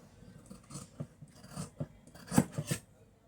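Scissors snip through blouse fabric in soft, irregular cuts, about half a dozen quiet crisp snips close by, with no talking.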